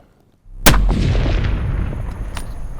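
A single loud rifle shot fired while hunting mule deer bucks cracks sharply out of near silence, then rolls into a long echoing rumble that slowly fades.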